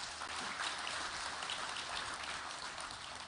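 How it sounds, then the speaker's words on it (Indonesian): Steady, even applause from a large crowd at a presidential cooperative inauguration event, a continuous wash of clapping heard at a moderate distance with no talk over it. "Boleh tepuk tangan yang meriah."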